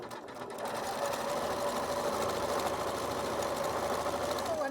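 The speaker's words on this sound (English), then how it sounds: "Start sewing this 1/4 inch to the left." A sewing machine runs steadily while stitching a quilt block, with a continuous mid-pitched motor hum and rapid needle chatter that start after a brief quiet moment and hold close and level to the end.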